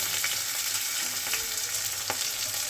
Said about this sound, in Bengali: আবার এই মাছেরও কিন্তু আবার তেল ছেটাচ্ছে